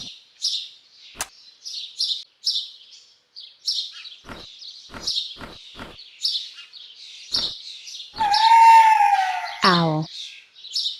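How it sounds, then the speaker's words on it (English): An owl calls in a children's animal-sounds sequence, a loud screeching cry near the end over a steady background of small birds chirping and tweeting. "Owl."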